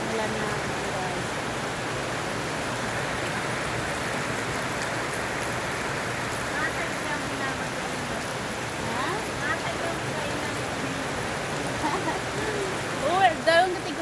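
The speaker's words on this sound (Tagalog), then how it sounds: "Lumakas na yung ulan na guys." Heavy rain pours steadily outdoors in the Philippines, a dense continuous hiss without a break, with faint voices and a brief sound near the end.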